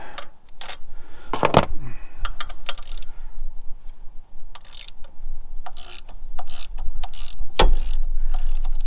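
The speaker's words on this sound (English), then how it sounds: "cordless impact to get them out the rest of the way" A cordless impact wrench removes alternator bolts on a 2008-2016 Chevrolet Cruze 1.4, its weakening hammering coming in short rattling bursts, strongest near the start and again toward the end, amid clinks and shop noise.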